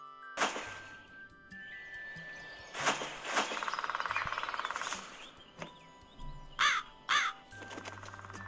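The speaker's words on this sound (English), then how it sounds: "Crow." A crow caws in a series of loud, harsh calls, some single and some in quick pairs, separated by short quiet gaps.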